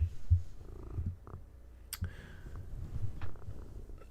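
A house cat purrs close by in a steady low rumble, broken by a few soft clicks and small shifting noises in a quiet room.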